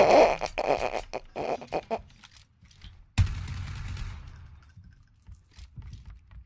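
A weapon in PlayerUnknown's Battlegrounds fires a rapid burst of close, loud shots, followed by a sharp single crack and fading rumble amid quieter game noise.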